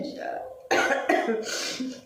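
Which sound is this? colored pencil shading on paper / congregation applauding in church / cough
cough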